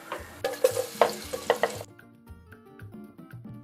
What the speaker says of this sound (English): I'm going to start by frying my onion.